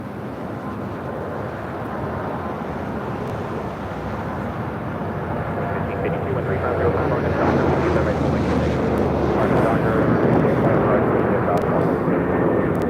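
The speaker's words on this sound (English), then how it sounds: "we've got that American 737-800 rolling down 25 right" An American Airlines Boeing 737-800 rolls down runway 25 right at LAX, its jet roar building steadily from a distance amid wind buffeting on the microphone.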